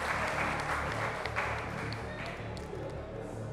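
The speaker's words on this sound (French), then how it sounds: "Bravo, on peut l'applaudir." Studio audience applauding on the French game show Jour de chance, a steady, dense wash of clapping that holds at an even level throughout, with a low musical bed underneath.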